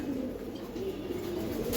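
Pigeons coo at a pigeon farm holding high-flyer and racer breeds, a low, continuous murmuring of several birds close by, steady throughout with no talk.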